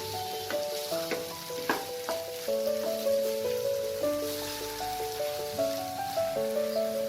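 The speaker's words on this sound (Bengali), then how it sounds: "পোস্তটাকে হালকা 1 মিনিটের মতো নাড়াচাড়া করে নেব" Poppy seed paste stirred and frying in a pan, a steady soft sizzle with occasional stirring scrapes running under louder background music throughout.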